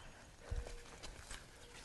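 An Arabian horse walks over ground, with a few soft, irregular hoof clops, faint and somewhat distant against steady outdoor background noise and no talking.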